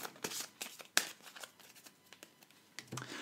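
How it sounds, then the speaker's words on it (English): Room cards for a board game are shuffled by hand, giving a run of quick papery riffles and soft slaps, fairly close and quiet, with no talking. "Then shuffle them together to form our room deck."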